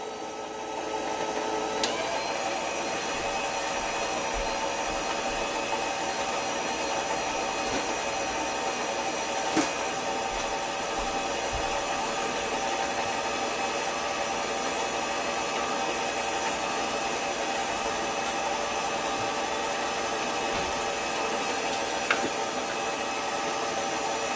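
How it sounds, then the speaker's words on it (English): A dough machine runs with a steady, loud mechanical drone while whole wheat flour is added little by little for pizza dough, the motor noise continuous throughout with a few faint clicks. "So I'm gonna turn on the machine and going to add flour little by little."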